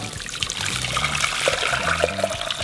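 About a litre of freshly boiled water is poured into a saucepan for a one-pan pad Thai, a short close splashing trickle with liquid gurgles.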